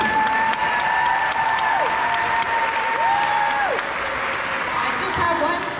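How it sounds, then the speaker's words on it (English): Applause at a community culture show for the event committee, a steady broad round of clapping from the crowd under a voice that keeps talking over it throughout. "I just want to have a really big round of applause for the committee to help with this event."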